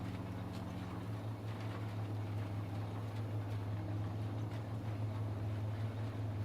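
Tractor engine in Farming Simulator 22 during seeding on a Red River, Manitoba farm, a steady low droning hum that holds evenly throughout at moderate level with no pauses.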